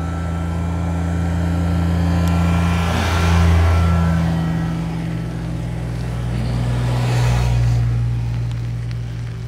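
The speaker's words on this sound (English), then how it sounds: "We got some tractor traffic coming up." Tractor-trailer trucks pass on a road in two loud swelling waves of engine roar and tire noise, rising and fading close by over steady traffic hum.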